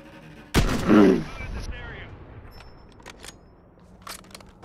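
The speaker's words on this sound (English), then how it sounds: "I heard an explosion as soon as he died." An explosion goes off in a Call of Duty match, a single sharp, loud blast that decays quickly into quieter rumbling and a few faint pops.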